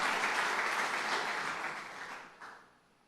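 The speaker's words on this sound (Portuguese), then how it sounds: "dá um aplauso bem forte ao Senhor" A church congregation applauds loudly and steadily at a sermon, the dense clapping carrying on, then thinning and fading out toward the end.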